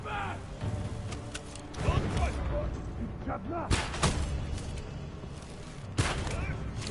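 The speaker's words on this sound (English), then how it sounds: "I'm gonna just throw a bomb" A thrown bomb in the Ghost of Tsushima game bursts in a few sharp loud blasts amid combat clatter, with someone talking over much of it.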